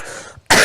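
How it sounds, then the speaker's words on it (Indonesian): A single sharp cough bursts out close to the microphone during a live religious lecture. It comes right after a brief quiet moment. "itu batuknya batuk aneh"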